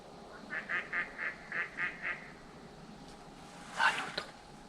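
A duck near a nearly dried-up lake gives a run of about seven evenly spaced quacks at moderate distance, followed by one louder call, over a faint outdoor background.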